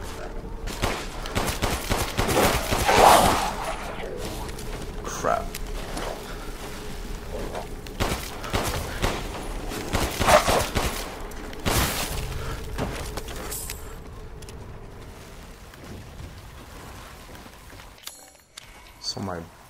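Repeated gunfire from Resident Evil Village, loud bursts of shots spread across the stretch with sharp peaks, mixed with game ambience and a player talking over the action.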